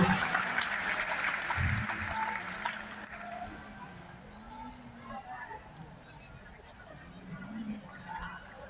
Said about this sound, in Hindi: एक बार जोरदार ताली सर के लिए